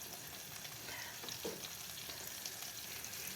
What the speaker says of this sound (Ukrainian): і підсмажуємо його 15 секунд, щоб аромат імбиря весь розкрився